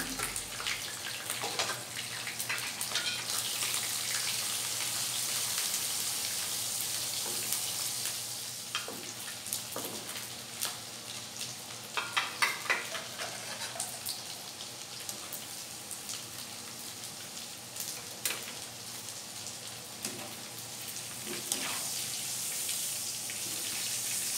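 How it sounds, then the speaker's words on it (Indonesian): Small anchovies (teri) sizzle in a pan of oil as they cook until dry and crisp: an even, hissing crackle with scattered louder spits and stirring sounds, heard nearby and alone throughout. "Sekarang kita mulai masak ini terinya aku goreng sampai mateng ya sampai kering"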